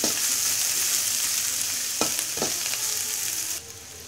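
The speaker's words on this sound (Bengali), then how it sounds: "পেঁয়াজটা ভালো করে নেড়ে নেব" Chopped onions fry in oil in a wok with a loud, steady sizzle. A spatula gives a couple of sharp scrapes, and the hiss drops quieter near the end.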